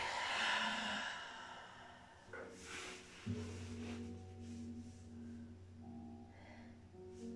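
A breathy exhale during a stretching exercise opens the clip, fading out before a steady low hum takes over for the rest.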